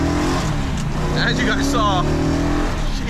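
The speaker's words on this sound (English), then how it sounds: "it is a big engine, very thirsty engine, running fantastic" A big, thirsty Hemi engine in a Plymouth Superbird runs steadily in a continuous low rumble beneath someone talking. The sound is loud and constant throughout.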